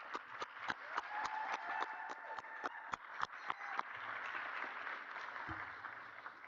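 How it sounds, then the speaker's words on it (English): Scattered applause at a university commencement ceremony, distinct claps in a loose rhythm heard faintly from a distance, thinning out and fading after a few seconds. "so an applause for them, please"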